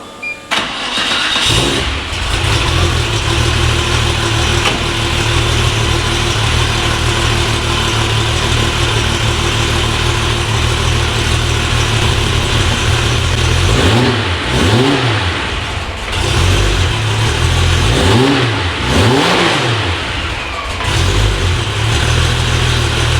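Porsche 964 Turbo fitted with an EFR8374 turbo starts up and settles into a loud, close idle, then gets several sharp revs that rise and fall near the end.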